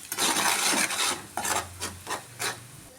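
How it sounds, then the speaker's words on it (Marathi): A spoon stirs kadhi in a pot after salt goes in, giving close rasping scrapes in a few uneven strokes with short pauses. "पण आपलं हलवून घ्यायचं आहे व्यवस्थित"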